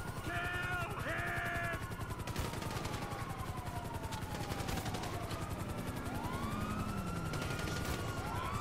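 Police sirens wail and sweep up and down in Grand Theft Auto amid rapid gunfire and chaotic game noise, the rising and falling tones overlapping at moderate loudness.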